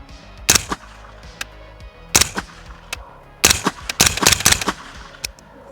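Several sharp gunshots from a suppressed Colt DOE rifle with a loose can, fired singly and in quick bursts outdoors, loud and close with short decays between shots.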